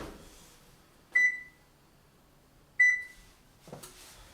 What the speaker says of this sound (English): I'm going to turn my oven on to 350 degrees.